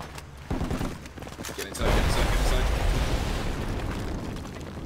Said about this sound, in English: Area attack, get inside.